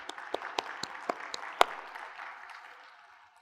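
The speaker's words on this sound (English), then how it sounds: "Give yourself a round of applause." Scattered applause from a tech conference audience after a TypeScript talk, with a few sharp individual claps standing out over a light, steady patter that thins and fades out toward the end.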